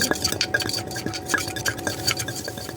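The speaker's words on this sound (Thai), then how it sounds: "หลังจากนั้นก็คลุกเคล้าให้เครื่องปรุงละลายเข้ากัน" A spoon stirs fish sauce, fermented fish sauce and seasoning powder into Thai chili paste for a boiled-egg relish, making close, repeated scraping and clinking strokes against the bowl with no talking.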